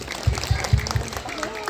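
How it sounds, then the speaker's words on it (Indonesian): Guests at a graduation ceremony for a Quran memorization school applaud briefly under a voice on a microphone, with a few soft claps spread through a hall and mixed with talk. "Boleh tepuk tangan?"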